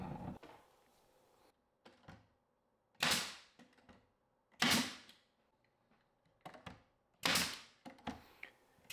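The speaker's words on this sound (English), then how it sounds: "then tack them in place with some brad nails" Brad nailer tacking wooden frames onto planter box tops, several sharp close percussive snaps spaced a second or more apart with quiet handling knocks in between.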